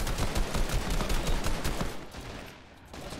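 Sustained rapid gunfire from a competitive online shooter tournament match, dense and loud throughout with many overlapping shots, easing slightly toward the end.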